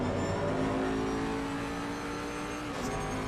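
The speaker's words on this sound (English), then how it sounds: "you can see the Lexus thundering up behind him at full speed" Several race cars in Assetto Corsa at Laguna Seca, a Lexus and a BMW among them, roar together at full speed in a steady, loud, dense engine drone with a sustained tonal hum and no talk.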